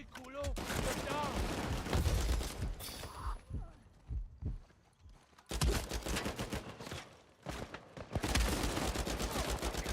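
Gunfire from an online multiplayer match of Uncharted 4, with bursts of rapid shots and impacts spread across the clip, loud and close, broken by a brief lull, while players talk over it.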